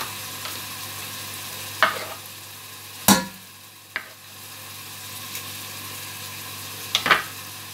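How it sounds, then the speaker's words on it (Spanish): Ingredients being sautéed in a pan for yellow rice, with a low steady sizzle and a few sharp clinks and scrapes of stirring, close by and without talk. "Estoy sofriendo."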